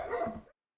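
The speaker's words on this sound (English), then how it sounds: "Excuse the dogs in the background if you hear those." Dogs give a single short, muffled bark in the background, faint and brief before the sound cuts off.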